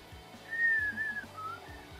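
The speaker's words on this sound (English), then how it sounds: "Can you whistle? I can whistle," A person whistles a short, wavering tune, a thin steady tone that holds, dips and trails off over a couple of seconds, fairly quiet and alone with no talk.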